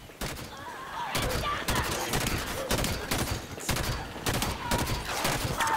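A turret in Halo 5: Guardians fires rapid repeated bursts of shots, loud and steady across the whole stretch, with sharp evenly spaced cracks over a rumbling battlefield backdrop.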